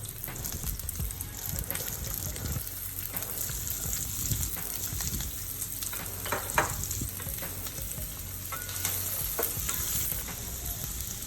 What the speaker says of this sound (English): Saute some onion, some carrots,